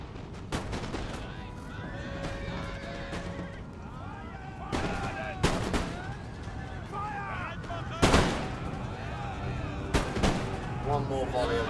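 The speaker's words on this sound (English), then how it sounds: "one more volley of that artillery" Artillery volleys firing in the battle game Empire: Total War, several heavy booms spaced apart over a continuous din of musket fire, horse whinnies and shouting.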